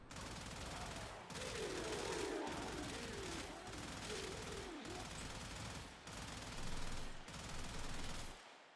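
Video-game gunfire in long rapid bursts, each burst emptying a whole magazine, loud and close, with several bursts separated by brief gaps and a faint tonal sweep beneath.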